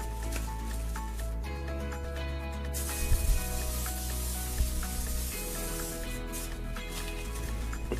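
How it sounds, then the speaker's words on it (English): Bursts of aerosol cooking spray hiss loudly in a few sprays, with a steady background hum and faint clatter. "With the non-stick spray."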